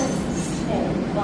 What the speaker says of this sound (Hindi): ये देखिए 12 बंकी रेलवे स्टेशन है ये।